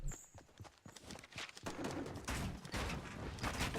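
Gunshots strike a player in Fortnite Battle Royale duos on Xbox One X, sounding as a dense, close burst of sharp cracks and impacts that grows louder and more continuous, with game ambience underneath.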